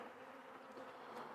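Honeybees buzz on hive frames, a dense, steady hum that stays faint and continuous throughout with no voices.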